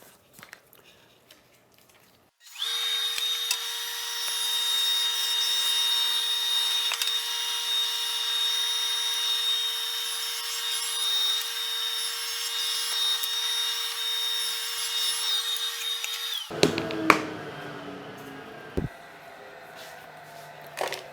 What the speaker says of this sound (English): So let's do some cutting.